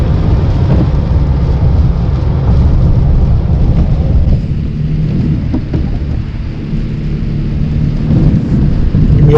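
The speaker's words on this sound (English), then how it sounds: "It's just non-stop rain" Steady, non-stop rain falls over wet, muddy, partly frozen ground along a trap line, a dense continuous wash that stays loud throughout with low rumbling beneath and no voices.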